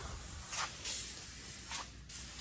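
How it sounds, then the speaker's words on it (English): Brake cleaner sprays in short hissing bursts during a Cummins ISX15 engine rebuild, a few quick blasts at moderate distance in a quiet shop. "Brake cleaner? Yeah. Works miracles."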